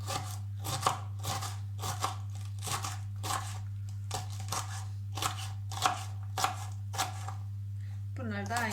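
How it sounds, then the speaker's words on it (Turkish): Eggplant, tomatoes and peppers being chopped into small pieces with a knife on a board, producing a steady series of crisp, evenly spaced knocks over a constant low electrical hum, close and moderately loud. "Bunları da küçük küçük doğrayayım arkadaşlarım."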